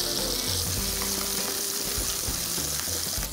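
Meatballs sizzle and fry steadily in a pan as they are shaken to brown on all sides, a loud continuous crackle with occasional clinks.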